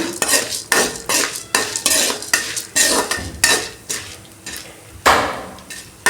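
Urad dal and other ingredients being sautéed until reddish in a pan for horse gram chutney, a metal spatula scraping and clinking in a steady rhythm of about a dozen strokes, close and fairly loud with no talk.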